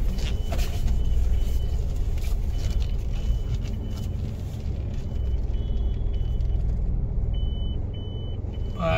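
Cars come and go on a road beside a roadside washroom, a continuous loud rumble of passing traffic with engine noise and a few short beeps near the end.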